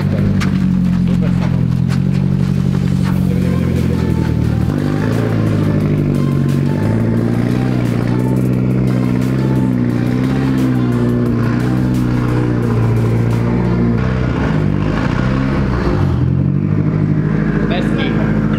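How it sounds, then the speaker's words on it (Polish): A BMW 330Ci engine idles and revs up close in a garage, a steady throaty running note with swells of acceleration, while people talk over it. "Fajnie mu to auto chodzi całe."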